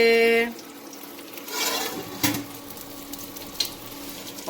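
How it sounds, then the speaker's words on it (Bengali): Koi fish frying in oil in a home kitchen, a steady soft sizzle with occasional stirring clatter after a brief tonal hum at the start. "আর এখানে হচ্ছে মাছ ভাজি। তো এখানে আছে কই মাছ"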